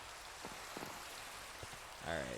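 Steady, soft rainfall in the Minecraft video game, a continuous hiss with a few faint drop sounds. A voice speaks briefly near the end.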